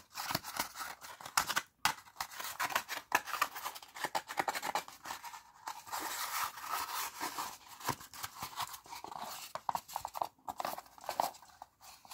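Fingernails scratching and rubbing close to the microphone in an ASMR hospital-exam setting, a soft dense stream of crisp scraping strokes with brief pauses, no talking.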